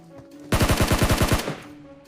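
A single fast automatic burst of about ten sharp, loud shots rings out in a PUBG Mobile match, lasting roughly a second against a quiet game background.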